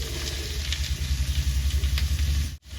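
Taro fries with spices and stalks in a pan, a steady, fairly loud sizzle over a low hum, cut by a brief dropout near the end.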